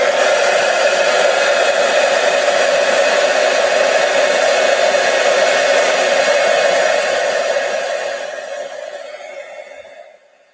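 An embossing machine runs on two pieces of card held together at once, a steady loud blowing whir lasting about eight seconds before it fades and winds down.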